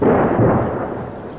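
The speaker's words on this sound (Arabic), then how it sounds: "قصف عنيف على البلدة" Heavy shelling on a town in Daraa, a deep, loud booming explosion whose rumbling roar swells at once and slowly fades over about a second and a half.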